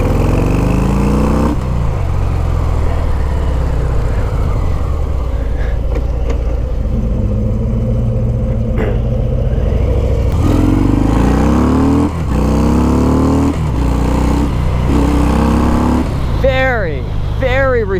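A 2019 Harley-Davidson FXDR motorcycle cruising in second gear at about 25 mph, its engine droning steadily and close with rising revs near the end, while a rider talks over it.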